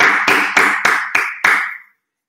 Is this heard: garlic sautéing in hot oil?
no